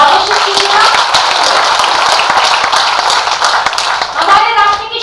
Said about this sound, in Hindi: एक बार पूरा सदन मुझे तालियां बजाकर आदेशित कीजिएगा।